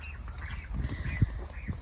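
A goose honks outside its coop on a homestead, separated from the flock; a few short nasal calls stand out from steady low outdoor rumble, with one louder call near the middle.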